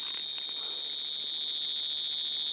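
A 1996 Superman Man of Steel action figure's laser accessory emits a steady, piercing high electronic tone. It sounds without a break for the whole moment, with a few faint clicks at the start.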